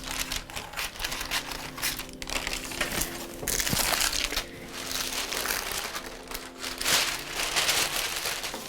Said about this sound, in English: I'm going to line this tin. This is a 9-inch square old tin. We greaseproof paper, 2 layers in the bottom and 2 layers around the sides.